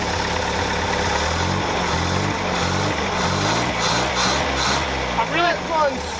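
A 1960s International Scout 80 engine idles steadily close by after a fuel problem is fixed, a low rumbling exhaust running continuously under people talking.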